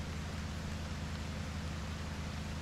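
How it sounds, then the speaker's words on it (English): Steady, dense rain hisses in the FF7 Ever Crisis video game, a continuous even wash of noise with a low rumble underneath and no talk. "It sure is raining hard."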